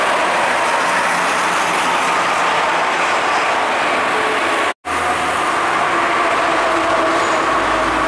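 An Agramas bus (BM071) passing on a toll road, a loud continuous roar of tyres and wind rushing close by, cut by a brief dropout midway, with no talking.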